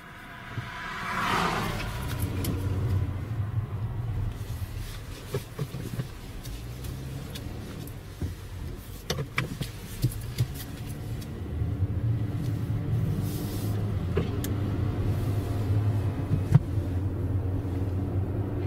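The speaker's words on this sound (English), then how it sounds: "Got a car behind me." A car approaches from behind along a road, heard as a low rumbling engine and tire noise that swells and lingers steadily outdoors with some wind buffeting the microphone, with no talking.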